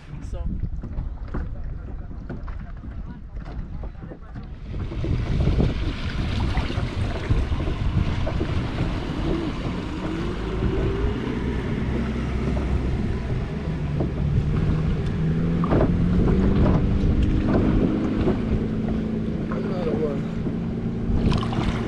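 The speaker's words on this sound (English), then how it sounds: "The only issue is when the speedboats pass by, there are a lot of waves." A small boat floats in the Danube Delta near Mila 23 while speedboats pass and their wake slaps against it, a steady loud wash of water and motor rumble that swells after the first few seconds and continues throughout.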